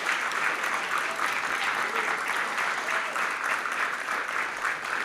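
A church congregation applauds continuously throughout, a dense, even wash of many hands clapping at steady volume.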